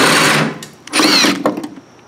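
Power tool, likely an impact wrench or drill, removing 9/16 bolts from the fuel tank straps under a Camaro; two close, loud whirring bursts with a brief pause between them and a short tail.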